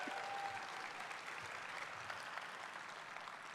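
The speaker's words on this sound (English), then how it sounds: "That deserves a clap." A town hall audience breaks into applause, a soft, even wash of clapping that holds steady throughout, heard from some distance with no voices on top.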